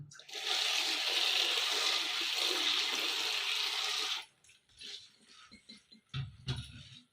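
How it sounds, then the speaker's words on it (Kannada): Water gushes into a bowl to soak puffed rice, a loud steady pour lasting about four seconds that stops abruptly, followed by faint shuffling and a few soft splashes. "ಮೊದಲಿಗೆ ಸ್ವಲ್ಪ ಮಂಡಕ್ಕಿ ನೆನಿಬೇಕು, ಅದಕ್ಕೋಸ್ಕರ ನೆನೆಸ್ಕೊತೀನಿ ನಾನು"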